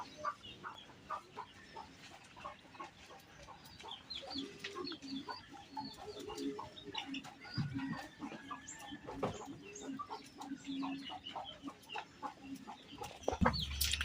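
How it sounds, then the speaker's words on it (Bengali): Newly hatched quail chicks, about twelve hours old and brought outdoors, give faint scattered peeps and chirps throughout, with clucking poultry sounds and light background rustle, no talk. "কোয়েল পাখিগুলা বের হওয়ার 12 ঘন্টা পর বাইরে নিয়ে এসেছি একটু"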